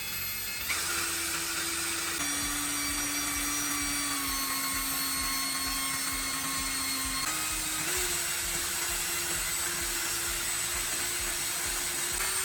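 A drill spins a chopstick mixer in a bowl, making a steady high motor whine that shifts pitch slightly as the speed changes, loud and close, with no talking.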